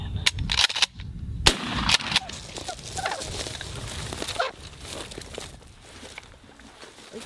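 A gunshot fired during a turkey hunt outdoors: several sharp, loud cracks in the first two seconds, followed by quieter rustling and ambient noise.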